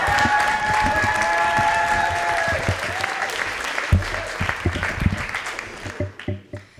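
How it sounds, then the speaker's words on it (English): Audience at a teen poetry slam in Mill Valley Library bursts into sustained applause with cheers and whistles, steady and dense before thinning into scattered claps near the end. "keep that applause going for our next poet, Chelsea Meyer."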